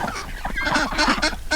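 Ducks being hand-fed on a farm give a quick run of nasal honking quacks and calls, close by and fairly loud over a short stretch.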